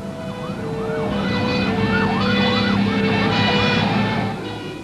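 An emergency vehicle siren wails in a repeated rising and falling pattern during firefighting practice at London's Heathrow Airport. Engine noise runs underneath, and the siren swells and then fades over several seconds.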